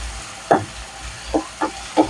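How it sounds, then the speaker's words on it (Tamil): Finely chopped medium-sized tomatoes fry in a pan with a low sizzle, broken by four distinct stirring scrapes spaced unevenly. "நல்லா இந்த டயத்தில் நம்ம பொடிசாக கட் பண்ண தக்காளியை போட்டுக்கிறேன்"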